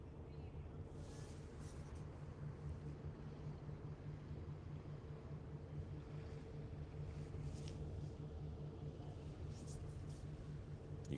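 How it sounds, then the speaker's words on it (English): A Red Funnel ferry sits in dock with its engines still running, a steady low mechanical drone and hum that holds constant throughout, with faint intermittent noises above it. "even when the ferry's here in dock, the engines are still running"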